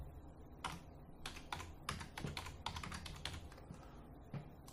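Typing on a computer keyboard, entering a date into a post, heard as quick bursts of soft clicks and key taps with short pauses between them, fairly faint and close, with no talking.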